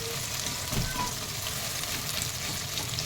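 Onions frying in hot oil, heard up close as a steady dense sizzle with soft stirring and scraping throughout.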